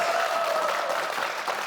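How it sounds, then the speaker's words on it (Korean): A studio audience at a Korean government talk program applauds a health ministry official, a brief, steady burst of clapping close and fairly loud, without talk. "큰 박수 한번 부탁드리겠습니다."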